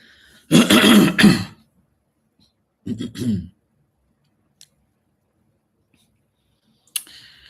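A person clears their throat twice with short rough rasps separated by a pause, followed by a faint click near the end.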